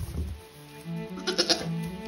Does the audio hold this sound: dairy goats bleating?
yes